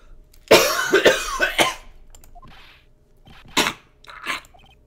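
A burst of harsh, repeated coughing in the video game Phoenix Wright: Ace Attorney, followed after a pause by a couple of shorter coughs, close and dry.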